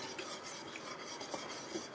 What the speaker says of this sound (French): Et on continue à remuer pour éviter que ça attache.